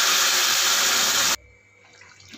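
Hot water poured from a bowl into browned, simmering meat in a home kitchen: a loud, steady rush of splashing liquid lasts just over a second, then stops abruptly, leaving quiet bubbling and faint kitchen noise.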